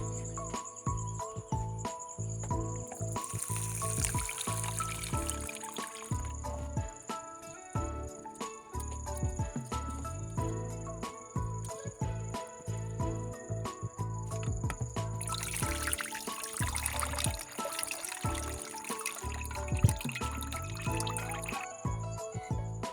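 Rice swirled and rinsed a second time in water gives repeated soft sloshing and trickling sounds in bursts, over a persistent high insect-like chirping in the background.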